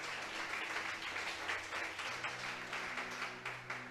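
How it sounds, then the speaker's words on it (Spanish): A church congregation claps steadily together, a continuous rhythmic wash of many hands, fairly distant and moderate in level, with a low hum of voices or music underneath. "Vamos a darle un fuerte aplauso al Señor, hermano"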